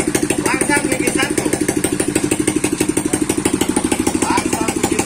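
Engine of a wooden derek crane runs through gear tests, a steady rapid throbbing pulse continuing close and loud throughout the clip, while people talk briefly over the running machine.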